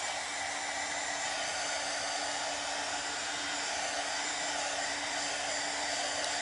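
A heat gun blows hot air over a Christmas craft project on a board, a loud, steady whooshing roar with a constant motor hum that runs without pause and no talking.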